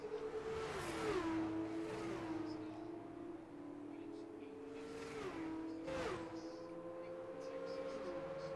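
F2 race cars from the SLR league battle for position at the Italy round of a racing game, engines droning steadily and rising in pitch through gear changes. Several cars sound close together, with a commentator talking over them.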